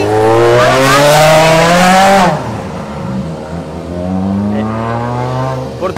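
URC rally race cars passing close by at a rally stage, a loud engine roar with rising and falling revs as one car sweeps past, then a second car building up in the distance.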